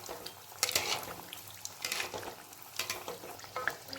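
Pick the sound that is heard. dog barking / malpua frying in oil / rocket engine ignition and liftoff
malpua frying in oil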